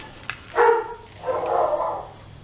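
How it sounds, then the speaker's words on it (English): Dogs bark twice at home, a short sharp bark followed by a longer, drawn-out one, moderately loud against a quiet background. "my dogs are barking"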